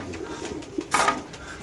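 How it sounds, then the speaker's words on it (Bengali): Female Pakistani pigeons give a short, soft coo, a single brief burst against quiet background with no talking. "এখানে 4টে মাদি কবুতর আছে"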